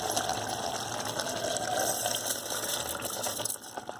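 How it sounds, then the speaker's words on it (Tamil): Water pours steadily into a pot of rice for curry-leaf biryani, a continuous close gushing splash with no talking. "அந்த காப்படி அளவுக்கு 2 கப்பு தண்ணி ஊற்றிடலாம்."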